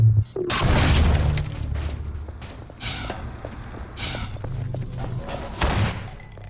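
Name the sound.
shotgun fire in video game Half-Life 2: Episode One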